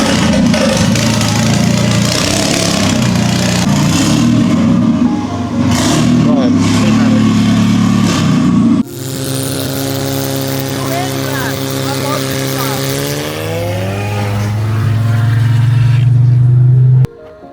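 A modified car engine after a hood dump cranks, catches and settles into a rough, loud idle, then climbs in a smooth rev with rising harmonic tones, heard up close.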